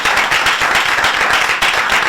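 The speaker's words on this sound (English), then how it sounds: "A round of applause for all these contestants" An audience at a televised mental health quiz show claps for the contestants, loud, dense, continuous applause from start to finish.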